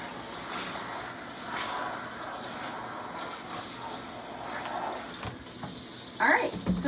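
Tap water runs steadily over dyed synthetic curtain fabric being rinsed in a sink, a continuous moderate splashing hiss with a brief louder spurt near the end.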